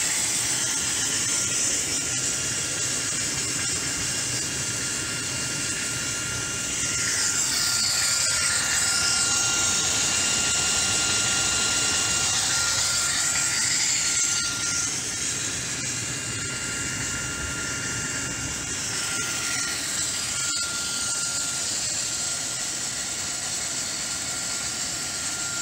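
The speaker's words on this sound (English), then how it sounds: "Monotube boiler running full power." A small homemade monotube steam boiler fired with biomass and fed by a piston water pump runs at full power, giving a loud, continuous roar and hiss that holds steady throughout with no talk.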